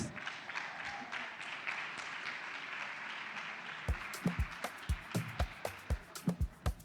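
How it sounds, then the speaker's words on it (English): Steady applause from a crowd for a few seconds, then thinning out into a handful of distinct, loud individual claps at an even rhythm. "Please keep clapping."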